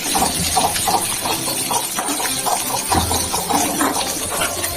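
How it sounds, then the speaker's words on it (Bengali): Hilsa fish fries in oil for khichuri, giving a steady, loud hiss with continuous crackling and bubbling sizzle and no pauses. "এদিকে আবার ইলিশ ভাজা হচ্ছে, বাহ বাহ বাহ, ব্রাউন করে ভাজা হচ্ছে"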